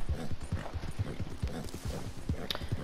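A horse trots at a steady rhythmic clip-clop in the Western game Red Dead Online, hoof beats fairly close and even, with faint ambient noise behind.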